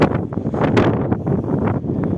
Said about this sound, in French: Il y a du vent, j'espère que vous allez m'entendre.